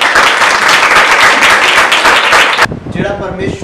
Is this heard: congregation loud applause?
yes